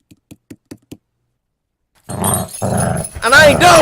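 A dog in an animated horror story growls and snarls loudly and close, after five soft evenly spaced thumps and a short silence, with a voice mixed into the growling.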